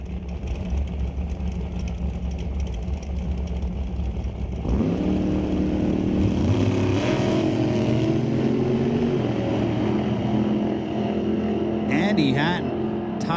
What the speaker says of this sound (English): Andy Hatton, tidy launch at the starting line